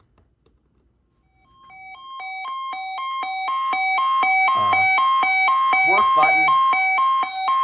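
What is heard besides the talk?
weather radio siren test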